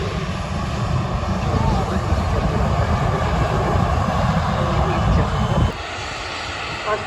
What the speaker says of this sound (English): Iceland 737 MAX 8